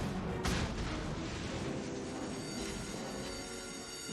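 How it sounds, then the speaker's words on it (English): Secondary battery guns of the USS Pensacola cruiser firing in a World of Warships naval battle, heard as a dense, continuous rumbling roar with overlapping blasts that runs the whole time without pause. "Secondaries are engaged."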